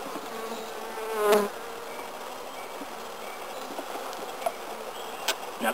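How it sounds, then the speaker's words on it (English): Honey bees buzz at a beehive in an apiary, a dense continuous drone with individual bees passing close now and then, loud and steady without talk. "there's a lot of bees there, this just keeps them under control a little bit"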